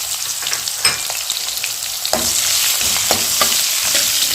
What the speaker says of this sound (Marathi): कांदा एक दोन मिनिट भाजून घेऊया